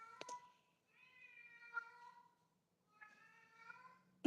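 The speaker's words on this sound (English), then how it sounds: "Do you hear my cat, or is my noise canceling kicking in?" Indoor house cat meowing repeatedly, three drawn-out tonal meows separated by short pauses, fairly quiet and close, with a soft click at the start and a sharp knock at the end.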